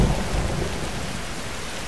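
Heavy rain pours down in a video game during a rough storm at sea, a dense, steady roar with a deep rumble of thunder at the start, loud and continuous with no voices.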